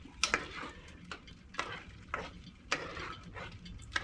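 A spoon scraping and stirring through a Cajun dish in a pot on a wood cook stove, several uneven strokes over a soft background sizzle.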